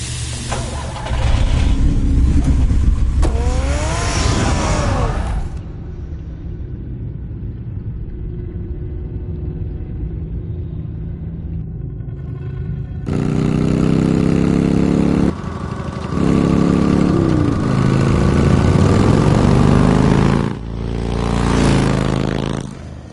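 The Batmobile's engine rumbles and revs in the Batman Telltale game, with deep idling stretches and rising and falling surges, loud and close, broken by a quieter lull partway through.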